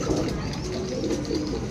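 Low, soft cooing of pigeons close by, a murmuring warble that continues throughout with faint rustling, no speech.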